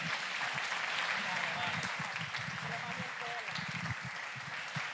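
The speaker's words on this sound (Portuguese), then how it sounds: "Aplauda ao Senhor, queridos." A church congregation applauds continuously, a dense, even wash of clapping heard throughout with no pause.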